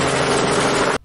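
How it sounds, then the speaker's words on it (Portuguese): A helicopter roars as a dense, steady, loud rotor-and-engine wash for about a second before it stops abruptly. "helicóptero."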